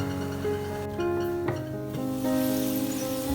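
Potatoes and spices fry in a covered pan, a steady close sizzle heard alongside soft background music.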